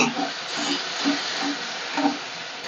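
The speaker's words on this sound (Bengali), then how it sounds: "টমেটো দিয়ে দিচ্ছি সমস্ত মশলাটা দিয়ে একটু ভালো করে কষিয়ে নেব" Ground chilli spice paste with salt, turmeric, cumin, ginger and tomato sautéing in a pan gives off a steady soft sizzle and hiss, with a voice talking over it.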